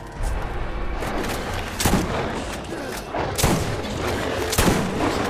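Gunshots in the video game Borderlands, several loud booming reports spaced a second or so apart over a dense, noisy battle background.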